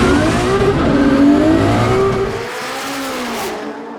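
A drift car in a Formula DRIFT skills battle launches down the drag strip, its engine roaring loud and revving higher through the gears before fading slightly as it pulls away.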